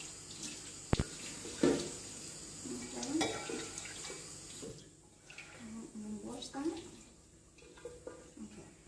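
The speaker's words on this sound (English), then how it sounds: "I'm going to pour this water out, okay? And I'm going to wash the almonds." Soaked almonds are rinsed at a sink after their soaking water is poured out: running tap water splashes and trickles in bursts, with a few sharp knocks of a bowl against the basin, close and moderately loud, with no talk.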